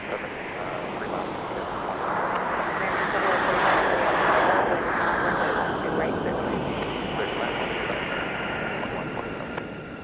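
A Sun Country airliner arriving from Phoenix at Minneapolis-St. Paul airport roars past in winter, a broad jet rumble that swells to a peak midway and then fades, with voices talking over it throughout.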